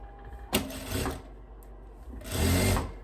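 A sewing machine stitches a seam on a long puff-sleeved dress, two short bursts of motor whir with a brief pause between, close and fairly quiet.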